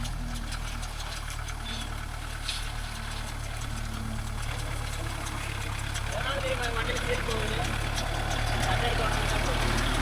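A Kubota MU4501 tractor engine runs steadily in farmland with a constant low hum and idling drone throughout, with voices talking faintly over it.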